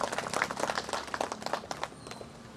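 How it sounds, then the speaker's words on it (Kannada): Applause at an outdoor gathering of a street vendors' union, a short burst of scattered hand clapping at moderate distance that dies away after about two seconds. "ಅವ್ರಿಗೆ ನಾವು ಒಂದು ದೊಡ್ಡದಾಗ ಚಪ್ಪಾಳೆ ತಟ್ಟು ಅವ್ರಿಗೆ ಅಭಿನಂದನೆ ಸಲ್ಲಿಸಲೇಬೇಕು ನಾವು"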